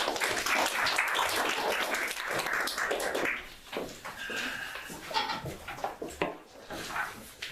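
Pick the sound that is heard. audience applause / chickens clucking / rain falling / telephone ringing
audience applause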